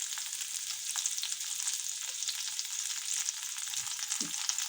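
Coriander stems frying in tempering oil with green chilli for a spicy pabda fish curry, giving a steady, bright sizzle throughout with a few soft stirring knocks near the end.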